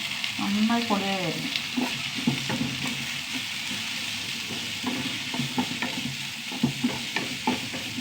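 Chopped, non-sour tomatoes soften in a pan, giving a steady close sizzle and frying hiss with scattered stirring scrapes and clinks throughout.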